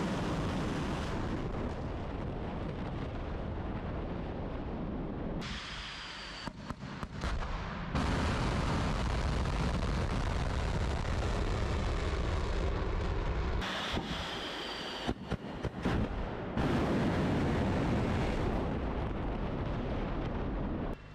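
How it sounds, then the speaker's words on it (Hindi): Russian ballistic missile launches and blasts in news footage, a loud, continuous rushing roar broken by abrupt cuts between shots, with no speech. "बड़े पैमाने पर बैलिस्टिक मिसाइलें दागी गई।"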